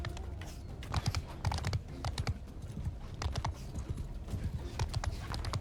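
Horse hooves clip-clopping in Mount & Blade II: Bannerlord, a quick, uneven run of hoofbeats during a castle siege, moderately loud, with keyboard clicks mixed in.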